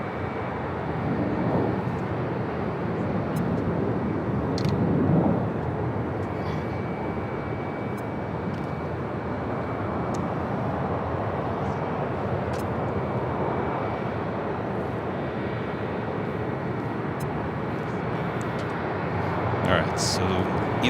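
A Delta airliner landing on runway 25 left at LAX gives a steady, broad roar of jet engines that swells slightly in places, with people talking over it throughout.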